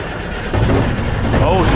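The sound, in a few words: engine of rare 2.5 ton dump truck running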